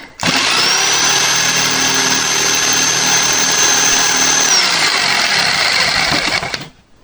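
A used electric jigsaw cuts steadily through material at close range, a loud, continuous motor whine with a high buzzing edge that holds for several seconds and then winds down.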